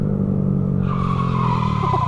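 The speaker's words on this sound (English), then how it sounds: "we probably shouldn't be locking our brakes up every stoplight" Car tires skid and squeal under locked brakes on a city street, a loud sustained screech lasting about two seconds with engine and road rumble beneath it.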